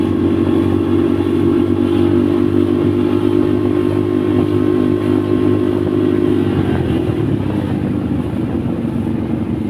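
A motorcycle on a charity group ride travels along a road with a loud, steady engine drone and constant wind rumble, its pitch dropping slightly near the end as it eases off.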